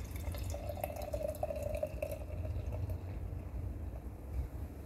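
Sour beer pours from a can into a glass, a soft steady fizzing splash that runs for several seconds, quiet and close, with no talking.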